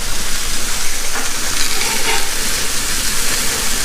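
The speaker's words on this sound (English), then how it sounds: "Looks like they're grilling up nice." Ribeye burgers sizzle on a grill, a steady, loud broadband hiss and crackle that runs unbroken from start to finish with no talk.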